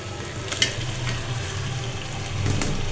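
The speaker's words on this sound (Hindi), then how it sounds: "और हम इसको करेंगे फ्राई" Chicken liver and gizzards fry in a pan for a home-style desi dish, a steady close sizzle with brief stirring scrapes and clinks, growing slightly louder toward the end, with no talking.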